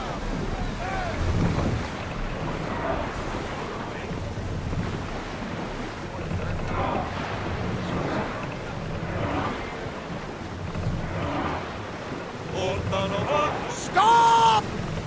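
A sailing ship ploughs across the open sea in the game Assassin's Creed Odyssey, with continuous rushing waves and wind, and voices talking intermittently over the steady water noise.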